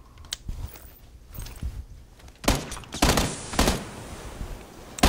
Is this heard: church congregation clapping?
no